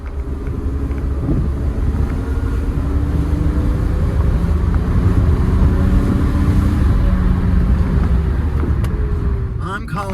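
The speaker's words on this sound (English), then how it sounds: "Gotta rev it up." A Mercedes M104 3.6 AMG engine in a W202, just fitted with a new camshaft solenoid actuator, drones loudly as it pulls and its pitch rises and falls, with a faint rattle at the very end.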